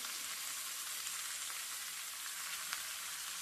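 Vegetables for a cucumber fritter dish fry in a pan, giving a steady, soft, even sizzle that hisses quietly throughout with no voices.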